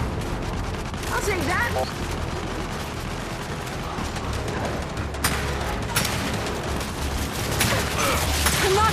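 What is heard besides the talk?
turret gunfire in Gears 5 video game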